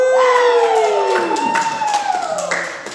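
A comedy club crowd whoops and cheers with rising and falling voices, with scattered claps mixed in, loud and close, fading toward the end.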